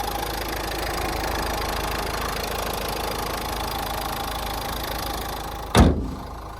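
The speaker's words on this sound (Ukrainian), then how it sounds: "Двигун працює чітко, оберти не плавають" A Dacia Duster 1.5 diesel (81 kW) engine idles steadily with a low, even rumble and a light knocking texture, ending in a brief loud thump near the close.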